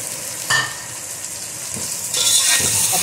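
Meat from yakhni stock added to a pot and frying, a sharp hiss as it goes in, then continuous sizzling that grows louder near the end, with a soft stir or two and no voices.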